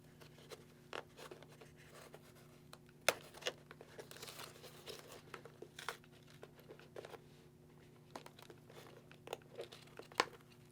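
Thin plastic backing peeled by thumbnail off the speaker cutout covers inside a Scorpion EXO-R1 Air carbon motorcycle helmet, giving soft, close crinkles and crackles with a few sharper snaps over a steady low hum.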